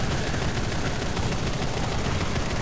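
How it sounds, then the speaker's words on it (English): Rapid 30mm cannon fire from a Ki-87 fighter in the aircraft combat game War Thunder, a dense, continuous burst of heavy booming shots running loud and steady throughout with no talk. "the guns are quite nice, I have to say, especially when you get the lead right on the 30s"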